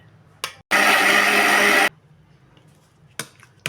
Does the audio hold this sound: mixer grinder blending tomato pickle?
yes